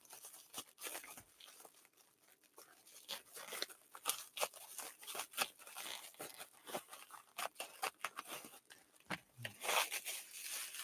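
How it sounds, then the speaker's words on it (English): Scissors cut and trim fabric near a Bernina sewing machine, giving quiet, irregular snips and crinkly rustles that repeat steadily without talk. "I'm going to use Emma's scissors now so I can cut down this a little bit"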